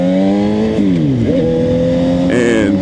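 A Suzuki GSX-R750 sport bike engine drones at close range in a steady multi-tone whine that dips, then climbs as the throttle is worked, loud throughout with no talking.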